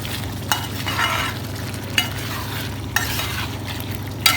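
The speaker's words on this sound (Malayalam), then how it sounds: "ഈ ഇറച്ചിയിലൊക്കെ നല്ലപോലെ പിടിക്കാനായിട്ട് സ്റ്റൈലായിട്ടൊന്ന് മിക്സ് ചെയ്ത് കൊടുക്കുക." Chicken being stirred in a pan for a spiced Kerala dish, a steady sizzling fry with periodic scraping strokes of a spoon against the pan, close and fairly loud, no talking.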